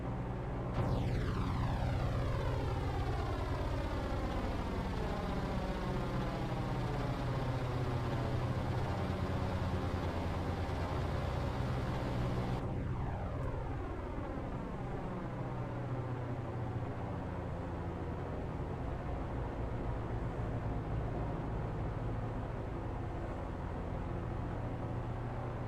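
Twin warbird aircraft engines in Microsoft Flight Simulator roar continuously, their pitch sweeping up at the start and shifting again midway as the two engines beat in and out of sync, loud, close and without speech.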